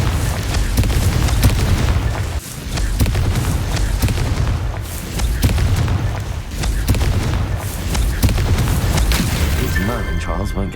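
Confringo fire spell blasts in the game Hogwarts Legacy, a series of loud booming explosions with crackling bursts repeating over several seconds, mixed with game sound effects.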